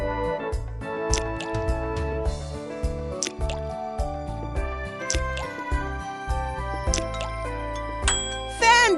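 Ice cubes dropping into liquid in the ABC Mouse educational game, a run of bright plinking drips and tinkles over light game music, ending in a sparkly chime.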